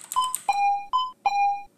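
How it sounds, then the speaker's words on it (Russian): Doorbell chimes in the horror game At Home Alone: two clear two-tone ding-dong rings in quick succession, each a sharp bright strike followed by a lower sustained tone, loud and close with nothing else around them. "кто-то звонит в дверь"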